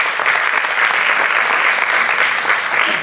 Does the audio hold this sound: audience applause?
yes